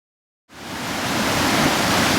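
Steady rushing water at a stream crossing on a winter mountain hike along Snake Den Ridge in the Smokies, starting abruptly and holding a loud, even broadband roar with no voices.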